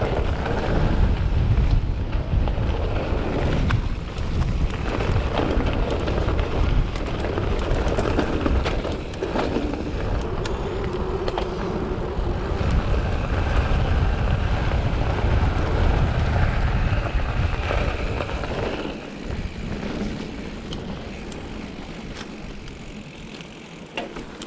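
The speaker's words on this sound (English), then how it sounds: "Wind's slowing me down on this one." Strong wind roars into the microphone during a mountain bike ride in North Wales, a loud, continuous rumbling buffet that persists throughout and eases slightly near the end.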